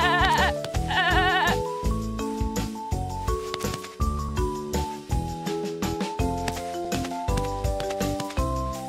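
A cartoon goat bleats in a Sesame Street game, a quavering wobbly call at the start, followed by a bouncy musical tune playing on alone.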